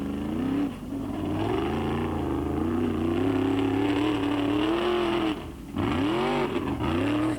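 Competition car at an Icelandic motorsport event in Akureyri, 1993, its engine droning steadily as it backs up and drives off, pitch rising and falling through gear changes, brief drops in level, no talk.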